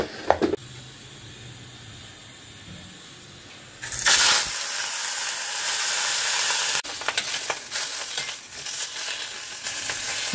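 Meat frying in a pan with no extra oil beyond leftover fish oil, a steady sizzle that grows louder partway through, with clattering bursts as it is stirred.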